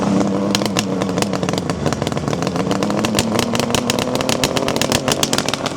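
A 1974 Kawasaki two-stroke motorcycle engine idles on choke, loud and close, with an uneven crackly popping rhythm and a slightly rising pitch. No talking.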